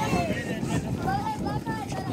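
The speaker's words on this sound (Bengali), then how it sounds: "গরু ছাগল নিয়ে একটি ট্রলার আসলো। কোথা থেকে আসলো?" A trawler carrying cattle and goats pulls in at the Hozrotpur cattle market, its engine a rough, steady drone mixed with wind buffeting the microphone while people talk nearby.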